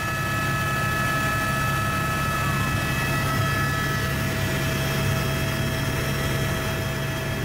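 A helicopter flies over Kerguelen, its engine and rotor making a steady, loud, continuous drone with a constant tonal hum for the whole stretch, with no voices.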